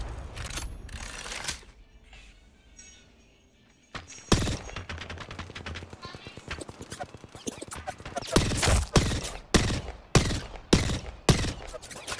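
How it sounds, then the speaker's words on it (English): Missiles firing in an aerial video game, rapid volleys of sharp mechanical bursts that start, pause briefly, then return as loud repeated salvos with short gaps between them. "firing missiles"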